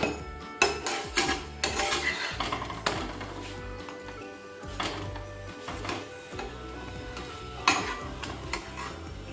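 Metal utensils clatter and clink against pots while tea is made, with repeated sharp knocks and scraping stirs spread irregularly over a low kitchen hiss, no talk.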